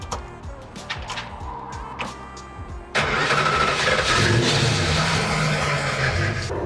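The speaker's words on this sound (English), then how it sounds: "So we got the engine started" A 1964 Plymouth Valiant engine cranks with a few starter bursts, then catches and settles into a loud, steady running note close by.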